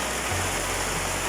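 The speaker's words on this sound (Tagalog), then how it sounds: "nakita nyo napakalakas yung ulan" Heavy rain pours down at a family house, a dense, loud, steady hiss that fills the space with no break, and a low hum joins in underneath.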